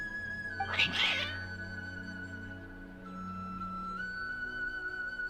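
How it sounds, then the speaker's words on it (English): Cats meow in the game Genshin Impact, a short, worked-up burst of high cries early on over a low, steady background hum. "Your cats seem pretty worked up."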